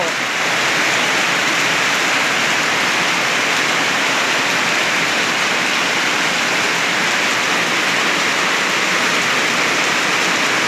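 Heavy rain pouring steadily, a dense, unbroken hiss of drops hitting surfaces close by, with no break for the whole stretch.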